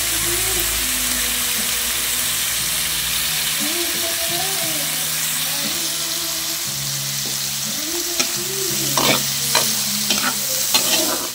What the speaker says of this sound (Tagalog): lagyan natin ng soy sauce